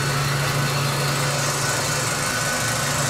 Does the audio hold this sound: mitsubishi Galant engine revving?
yes